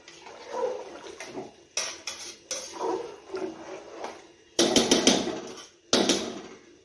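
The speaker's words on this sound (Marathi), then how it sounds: "फिरवून घेऊया" Bursts of scraping and wet sloshing as chicken biryani is stirred in a pot after water is added repeat irregularly, with a few sharper metallic clatters; close and fairly loud.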